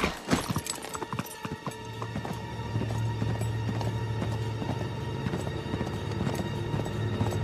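Horse hooves pound steadily in Uncharted 3, a galloping clip-clop rhythm that rises after a scattered start and runs continuously over a low engine-like drone, with no talk.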